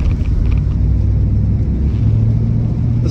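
A 1960 Cadillac Coupe de Ville pulls away with a deep, loud engine rumble that stays close and steady throughout this short stretch.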